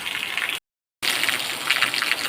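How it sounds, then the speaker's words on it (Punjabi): Rainwater pours hard from a rooftop drain spout in a heavy downpour, a steady, close, broadband gush that cuts out briefly before resuming just as strongly, with no voices. "ਲਓ ਜੀ ਪੰਤਾਲੇ ਦਾ ਪਾਣੀ ਕਿੱਦਾਂ ਚੋਣ ਲੱਗ ਗਿਆ ਬਹੁਤ ਤੇਜ਼ ਬਾਰਿਸ਼ ਹੋ ਰਹੀ ਹੈ"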